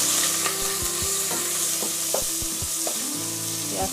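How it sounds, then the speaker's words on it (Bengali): Bay leaf and chopped frozen onion fry in melted ghee for vegetable khichuri, a steady sizzle broken by repeated scraping and clinking of a spoon stirring against the pan. "ঘিটা গলে যাওয়ার পর আমি এটাতে তেজপাতা এবং ফ্রিজিং পেঁয়াজ কুচিটা দিয়ে"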